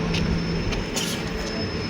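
Steady rumble of a train at Yesvantpur railway station in Bangalore, a low broad roar with faint squeals and clanks over two seconds, no talk.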